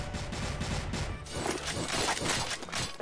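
Gunfire in the shooter game CrossFire, with rapid bursts of shots crackling continuously and a brief voice underneath.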